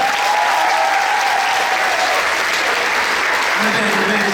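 An audience at a talent reception in Kranj gives a loud, continuous round of applause as a musician is welcomed for a mini concert, dense clapping throughout with a faint voice or tone surfacing near the end.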